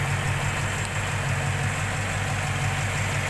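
A Rover P6B 3500S V8 engine with modified intake and ceramic-coated exhaust idles steadily, with a deep, even low-pitched burble throughout and no voices.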